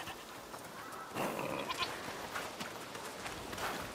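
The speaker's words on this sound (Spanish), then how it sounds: "¿Qué hay por ahí? ¡Cabras!" Goats bleat in the game A Plague Tale: Requiem, several brief calls rising over a steady ambient bed of outdoor game atmosphere, with no talk.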